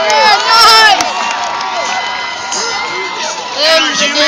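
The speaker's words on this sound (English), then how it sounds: "another round of applause for Mr. Dave Volker, everybody" A crowd at a school BMX stunt-show assembly cheers and whoops loudly, with excited children's shouts rising in bursts at the start and again near the end over a continuous roar of voices.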